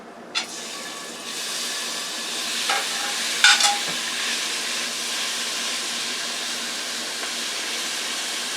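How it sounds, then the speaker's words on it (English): Steak frying in an oiled pan gives a steady, loud broadband sizzle and hiss, with a few sharp pops and crackles near the start and the middle. No one speaks. "save the flavor from the frying pan, from the steak, and show you how that is going to really make you want to eat it. Okay, let's put the steak in."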